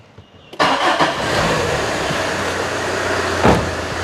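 An old Tata car cranks briefly and fires up within about half a second, then settles into a loud, steady running engine close by, with a small rev bump near the end.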